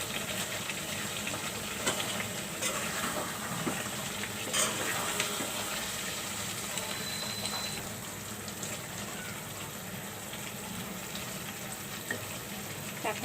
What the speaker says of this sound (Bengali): এখন আমি সবগুলো লাড়া দিচ্ছি।